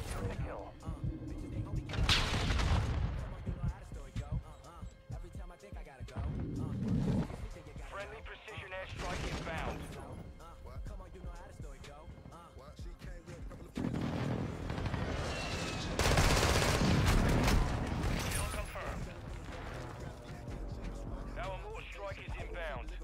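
Rifle gunfire and explosions from a first-person shooter video game, with dense repeated shots and blasts filling the whole stretch, while players talk over the noise.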